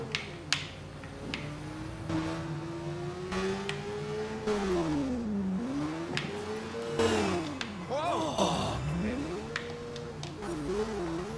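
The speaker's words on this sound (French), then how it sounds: "Hop là, on va rouler en moto, là." Motorcycle engine revving in the Watch Dogs video game, a steady whine that climbs and dips repeatedly as the throttle rises and falls, with someone occasionally talking over it.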